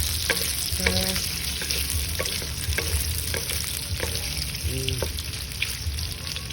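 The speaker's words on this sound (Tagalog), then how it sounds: "Let's fry the luncheon meat" Luncheon meat fries in a pan with a constant loud sizzle, broken by occasional scraping stirs and light clinks of a utensil against the pan.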